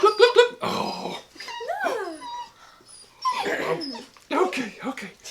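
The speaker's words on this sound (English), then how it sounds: "the Felders got some puppies, and they are a handful" Young puppies growl and whimper in a few close, loud bursts broken by short pauses, with high yips and whines that rise and fall across several seconds.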